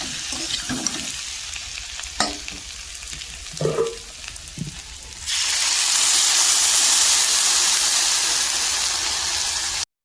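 Water poured into a pan of frying taro and potato curry, turning a few soft stirring clinks into a sudden loud, sustained hiss and steamy sizzle that carries on to the end.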